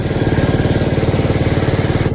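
A small mini tractor engine runs steadily at close range, with a fast, even putter that stays constant throughout and no voices.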